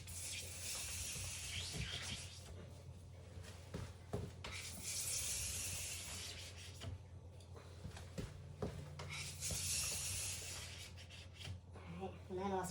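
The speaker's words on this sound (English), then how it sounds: "this is tip to tail scraping, I always tip to tail." Steel file scraping the edge of a race ski from tip to tail in long, repeated rasping strokes, close and steady, with a few short pauses between passes.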